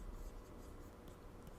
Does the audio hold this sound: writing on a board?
yes